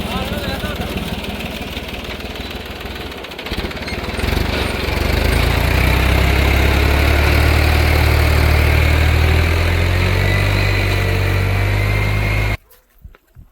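A tractor engine rumbles at idle, starting softer under voices and then swelling into a loud, steady low drone before cutting off abruptly near the end.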